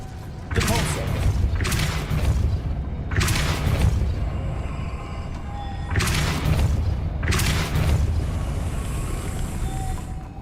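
Spell impacts from Depulsor cast in Hogwarts Legacy, heavy booming thuds with long rumbling tails, two pairs of loud blasts in a close repeating pattern.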